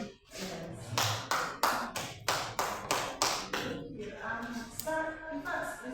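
Nine or ten sharp hand claps ring out in a fairly even rhythm over a few seconds, close and crisp, before a person starts talking.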